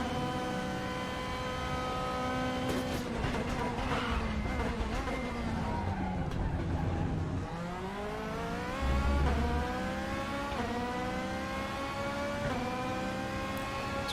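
DTM race car engine in the RaceRoom racing game, revving hard and loud throughout, its pitch climbing and dropping sharply as gears are slammed down mid-run, with no voices.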